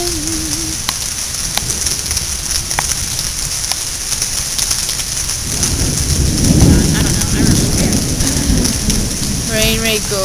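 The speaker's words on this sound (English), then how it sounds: "it is pouring and thundering and really loud" Heavy summer rain pours down steadily and loudly, with a deep rumble of thunder rolling in partway through; a voice is briefly heard near the end.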